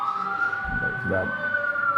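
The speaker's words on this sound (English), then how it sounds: "That's a loud siren." A loud siren wails steadily throughout, a sustained high tone with a low rumble briefly passing beneath it.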